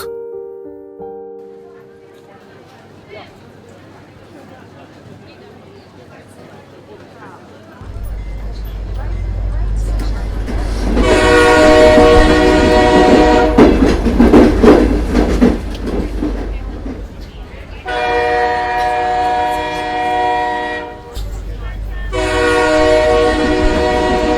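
Cartoon train sound effect: a low rolling rumble builds, then a loud horn blares in long bursts, with a short gap before two more blasts over continued clatter.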